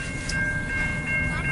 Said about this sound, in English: Oh, it's a long train, man.